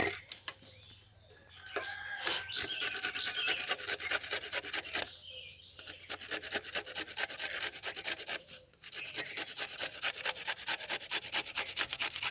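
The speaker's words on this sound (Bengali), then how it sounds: "দেখুন, আমি গ্রেটারের সাহায্যে গ্রেট করে নিচ্ছি।" Carrots being grated on a hand grater, a rapid run of rough, rasping scrapes broken by short pauses, close and clear with no talking.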